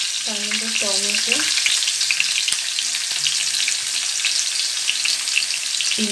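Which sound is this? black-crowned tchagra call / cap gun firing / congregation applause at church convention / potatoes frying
potatoes frying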